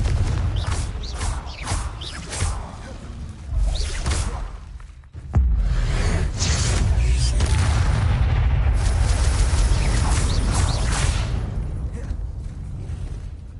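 Bombarda and Confringo spell blasts in the Hogwarts Legacy video game: heavy, booming explosions with whooshing casts, packed close together into a dense, continuous battle roar with a brief lull partway through.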